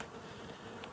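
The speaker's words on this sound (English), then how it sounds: "you set the box down, and a bee flies in there" Honey bee buzzing close to a hive box at a beginner's apiary in Colorado, a steady continuous hum under a noisy outdoor background for about a second.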